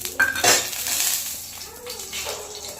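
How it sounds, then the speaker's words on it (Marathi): Coconut roasts in a little oil in a pan until reddish, for a bitter gourd and lentil dish. A utensil scrapes and clinks against the pan over a faint sizzle, close by and without talk. "थोडं तेल टाकायचं खोबरं असं लालसर भाजून घ्यायचं आहे"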